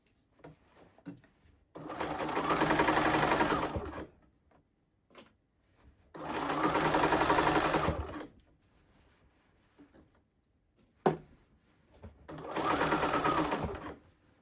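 A sewing machine stitching the pocket lining of a blazer runs in three loud, steady bursts of about two seconds each. Quiet handling clicks and pauses fall between the bursts.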